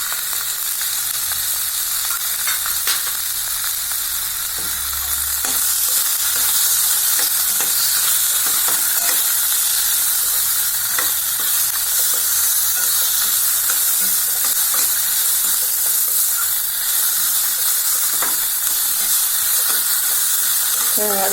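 Tomato, green chili, coconut and cumin sauté in a pan with a loud, constant sizzle close by, broken by repeated spatula scrapes and stirring.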